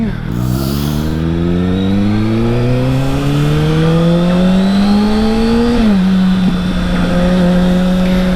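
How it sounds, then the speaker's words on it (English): A motorcycle with a Schnitz Racing ECU flash accelerates hard, its engine note climbing steadily through a gear before a brief dip and a sustained loud drone, close and dominant. "Oh man, that throttle's wild."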